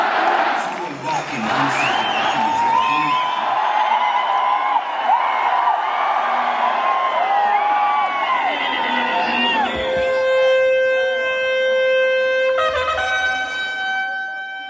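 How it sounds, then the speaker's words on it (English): At the Wagah border ceremony, long sustained horn tones sound over a noisy crowd of cheering and chatter. A clear steady horn note enters partway through and holds, with other held tones layered above it. "Eventually, horns warned us that something else was about to start happening"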